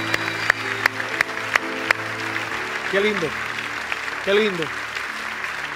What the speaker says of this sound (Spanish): Les aplaudimos porque celebramos con ustedes lo que ustedes han hecho.